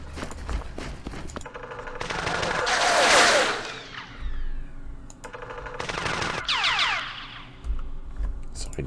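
Gunfire in the Vietnam war game Campaign Series Vietnam, Battle of Hue: rapid machine-gun bursts and shots in loud clustered volleys, with whistling projectile sounds and pauses between bursts.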